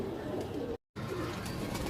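Pigeons cooing on a flat rooftop where champion pigeons are kept, a steady soft murmur of coos filling the clip, broken by a brief moment of silence partway through.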